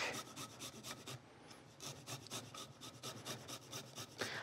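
Garlic grated on a microplane, a steady run of dry rasping strokes close to the microphone, rhythmic and repeated throughout with no talk over it.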